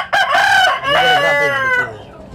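A rooster crows loudly and close by in a chicken-rearing setting where costly fowl are kept, one long harmonic cock-a-doodle-doo rising and falling over about two seconds with no talk.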